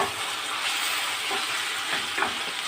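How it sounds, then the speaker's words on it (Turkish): Onions and tomatoes sauté in a frying pan while a home dinner is cooked, giving a steady, close hiss of sizzling with faint stirring scrapes throughout and no talking. "Şöyle biraz domates ile kavurayım."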